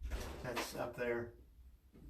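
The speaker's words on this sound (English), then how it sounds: "Hear the door go." A door opens or shuts at the entrance of a home speakeasy bar, a short bump near the start followed by people talking close by as the sound fades.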